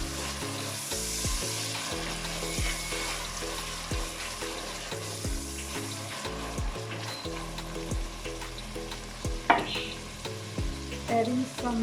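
Tomatoes sizzle and fry in a pan while being stirred, a steady crackling hiss with scraping strokes, alongside a loud rhythmic musical backing throughout.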